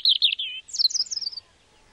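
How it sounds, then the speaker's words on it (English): A male European robin sings its spring territorial song: two short, high, sweet warbling phrases, clear and close, with no other sound around them. "male robins sing to proclaim a territory that they will defend against all comers"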